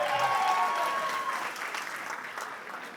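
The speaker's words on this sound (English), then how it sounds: "Let's clap hands for them." An audience at a comedy show claps for two tied quiz teams, with a burst of applause that starts strong and slowly fades. A brief tonal sound rings faintly at the start.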